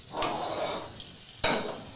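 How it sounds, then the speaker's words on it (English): A whisk stirring grits into boiling liquid in a pot, giving a continuous bubbling, sizzling wash with two sharp metallic scrapes of the whisk against the pan, close and clear. "We're gonna use a whisk to whisk in our grits"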